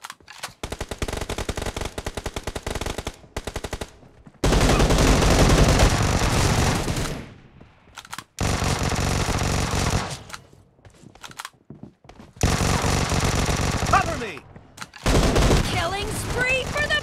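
Automatic gunfire in the mobile game PUBG Mobile comes in several loud bursts of rapid shots with brief silent gaps between them, and voices are heard among the shooting.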